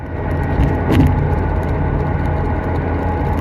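A car rumbles past on a road, a loud, steady low roar with a slight swell about a second in and no voices.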